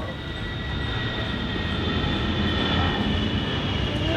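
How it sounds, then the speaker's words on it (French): A fighter jet roars overhead near Okinawa, a loud, steady broadband rush with a sustained high whine, filling the whole stretch without talk. "Je sais pas si vous entendez l'avion de chasse qui passe au moment où je parle."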